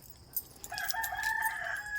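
A rooster crows once nearby, a long drawn-out call rising then holding steady, with no voices around it.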